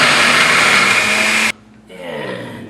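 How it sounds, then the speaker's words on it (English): A blender chops shallots for beef rendang paste with a loud, steady high-pitched whir for about a second and a half, then cuts off abruptly before a quieter motor whine briefly returns. "And into the blender go some shallots. Now I'm going to beat these down"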